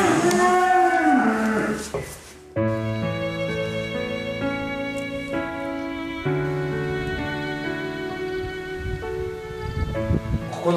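Wagyu cattle on a Japanese livestock farm moo loudly and close by, with one long, sustained, droning call followed by another deep, steady low that carries for several seconds.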